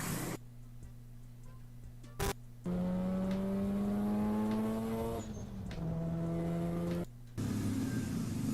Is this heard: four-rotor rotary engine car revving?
yes